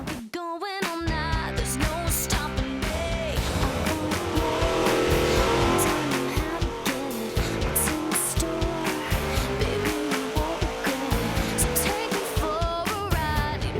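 A high school team's drag race car engine runs loud and close, revving and roaring continuously after a sharp start, with no talk over it.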